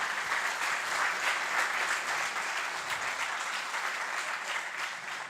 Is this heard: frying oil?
no